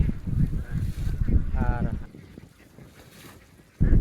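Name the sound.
flock of domestic ducks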